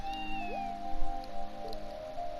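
A cat in the Trails from Zero video game gives a short meow, heard over sustained musical tones and light ambient sound.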